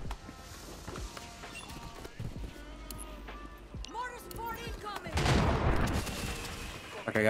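Gunfire in a battle royale video game on the Vondel map, with scattered shots and bursts, some distant, growing into a dense rattling volley near the end, while a player talks over it throughout.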